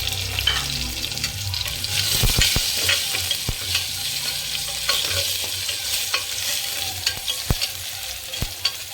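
Onions sautéing until golden in a pan with a little turmeric, a steady close sizzle running throughout, punctuated by sharp spatula knocks and scrapes against the pan, with no speech.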